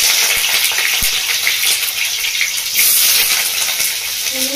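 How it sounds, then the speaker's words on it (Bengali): A green chili dropped into hot oil for Bengali potol posto fries with a steady, loud hissing sizzle that runs unbroken throughout, with a soft clink near the start. "তেলটা গরম হয়ে এসছে, তেলের মধ্যে দিয়ে দিচ্ছি একটা কাঁচা লঙ্কা ছেড়ে"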